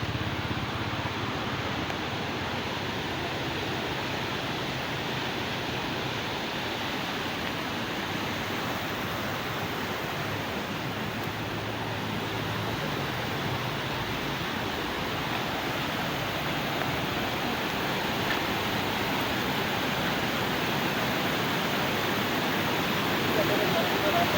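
The river below the Muzaffarabad bridge rushes as a broad, constant roar of flowing water, steady and moderately loud with no break.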